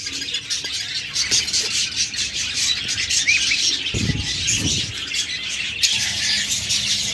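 Pet budgerigars and lovebirds at a bird seller's chirp and twitter continuously in a dense chorus, with a brief burst of wing flapping midway.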